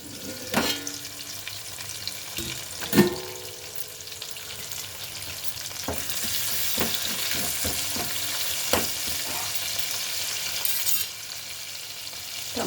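Chopped tomatoes sizzle in a pan for a spicy chicken biryani made with chittimutyalu rice, then simmer under a lid: a steady close hiss with a few sharp utensil clinks early on and scattered soft taps later, no talking.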